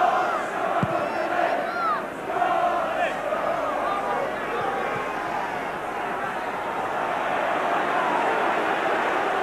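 Rugby league crowd at a Leeds versus Widnes match, a broad steady roar of many voices filling the ground, with a few louder shouts rising briefly near the start and a commentator talking over it.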